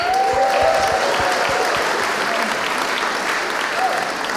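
Audience applause at the Scots Language Awards 2024 evening ceremony, a steady, full round of clapping from a hall crowd that holds at an even level for several seconds before tapering slightly.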